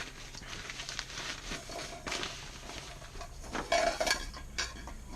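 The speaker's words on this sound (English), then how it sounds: "It's just a regular kettle." Regular kettle being handled among cooking equipment, with scattered metallic clinks, knocks and scrapes at close range, loudest toward the end.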